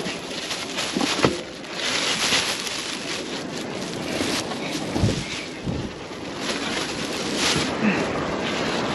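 Steady wind roars across the microphone with gusty buffeting, a constant broadband rush throughout with a few louder thumps.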